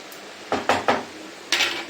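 Ponnaganti greens with moong dal being stirred in a pan: four separate scraping, clattering strokes of a utensil against the metal, close and fairly loud, with short quiet gaps between them.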